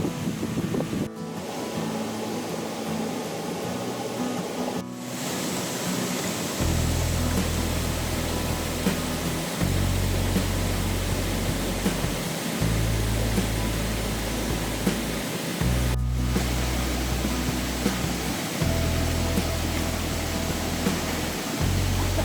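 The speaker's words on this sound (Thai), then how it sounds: "น้ำตกวังบ่อนะครับ" Wang Bo waterfall in Prachinburi, Thailand, sends clear water rushing in a continuous broad roar. It stays steady throughout, with intermittent low rumbling underneath and brief dips near the start.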